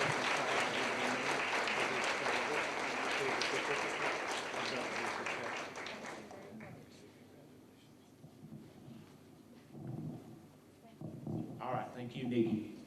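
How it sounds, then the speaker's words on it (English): Applause from an audience at a teacher appreciation ceremony, a dense, steady wash of clapping for about six seconds that gives way to quieter talk and scattered claps. "Let's give her another round of applause"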